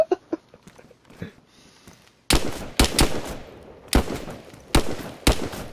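Gunfire in the video game DayZ: after a few faint taps, a run of loud, sharp, close shots rings out at irregular intervals, each with a short decaying tail.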